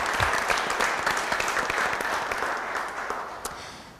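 Applause from a large audience at the finale of an entrepreneurship competition broadcast, dense and sustained clapping that holds steady and fades slightly toward the end.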